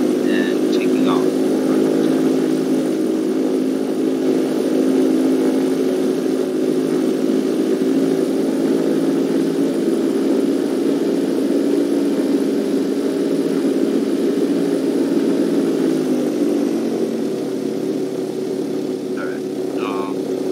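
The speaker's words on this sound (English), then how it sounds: "Bravo is now entering runway 10 and taking off." A propeller airplane engine in Flight Simulator X drones steadily during a takeoff run on a runway, a continuous loud hum lasting about twenty seconds with a brief faint clatter near the end.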